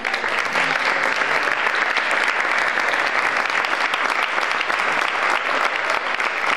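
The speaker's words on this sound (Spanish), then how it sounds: "Diego, que se merece un aplauso" A crowd gives sustained, dense applause for Diego, president of the students' association, at the fifteenth-anniversary celebration of the Almonte Official Language School. The clapping is loud and steady throughout, with no voices over it.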